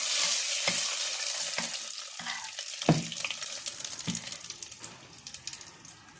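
A spoon scrapes and stirs through thick tomato dal in a pot just after tempering is added, with soft clinks and a faint sizzle underneath, close by and without voices.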